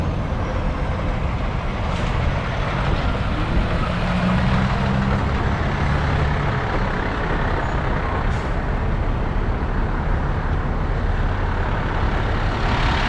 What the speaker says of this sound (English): Good trucks coming here.